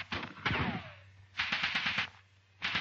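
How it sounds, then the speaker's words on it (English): Rifle and machine gun fire opens up in rapid bursts from a covering section on a hill during a platoon attack, with loud crackling volleys, a short gap, then another sustained burst and a fresh one starting. "The covering section on Scrubby Hill opens rapid fire."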